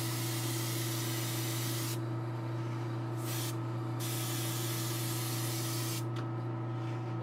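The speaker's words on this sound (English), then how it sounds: "So it's just a matter of just kind of like spraying it far away." Black paint sprayed from a distance, a steady airy hiss of the spray can running almost continuously with a few brief pauses, close and even in level, with no talking.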